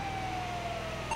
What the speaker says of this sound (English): You just hear a siren go whoosh.